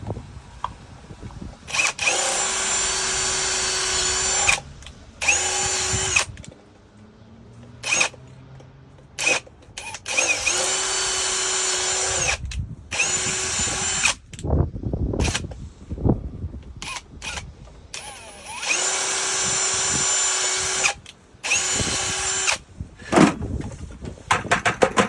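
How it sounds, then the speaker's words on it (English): A power drill bores drain holes along the bottom of a junction box in three long, loud, steady whines separated by short pauses and handling clatter, close by with no talk. "the first thing I'll do is put drain holes"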